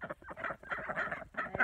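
Backyard chickens clucking and chattering in a short, busy burst of overlapping low calls, close and fairly quiet.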